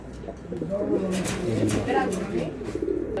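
Racing pigeons kept for sale coo softly and steadily in a loft, under a continuous murmur of background noise and movement.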